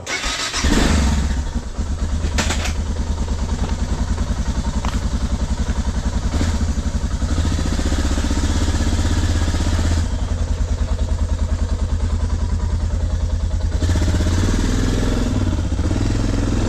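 Motorcycle engine laboring up a hill on a road trip from Filandia in Colombia's coffee mountains, a steady loud close drone after it starts, with brief clattering bursts and no talk.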